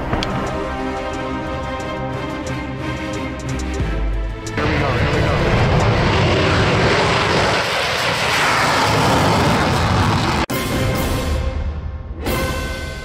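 Van's Aircraft RV-14A airplane engine droning loudly and steadily, rising to a fuller roar partway through, with a person talking over it.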